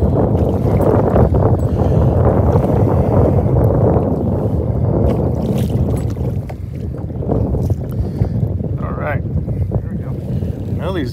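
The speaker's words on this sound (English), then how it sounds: "There's some wind there." Gusty wind on a lake buffets the microphone during bass fishing from a boat, a loud continuous roar with water sloshing and occasional voices.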